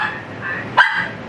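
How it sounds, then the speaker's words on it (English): A single sharp dog bark, close by, breaks through a quiet, whimpering background. "You're gonna stop barking at me."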